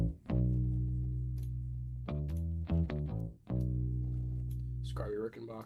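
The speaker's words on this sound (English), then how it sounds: "I added the bass, which sounds like this." A Rickenbacker bass plays a soul-style line, deep sustained notes with a few quicker passing notes, close and full, alone in the mix.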